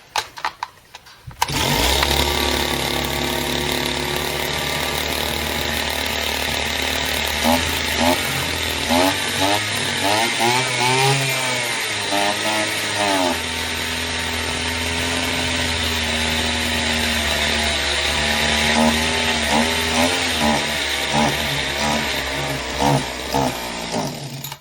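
A petrol brush cutter salvaged from a dump coughs into life, runs loud and steady with uneven revving for about twenty seconds, then sputters and stalls, heard up close with no talking.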